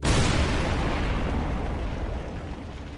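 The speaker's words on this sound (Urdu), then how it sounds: "وہ قبریں ایک دھماکے کی آواز کے ساتھ پھٹ گئیں" Graves bursting open in a horror story, rendered as a single loud explosion effect: a broad, heavy boom at the start that decays slowly into a rumbling tail over about three seconds.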